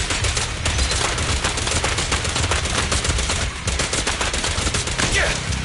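Rapid, sustained gunfire from a shooter in Zenless Zone Zero, a dense continuous rattle of shots running loud and close over the whole stretch, with a brief dip midway.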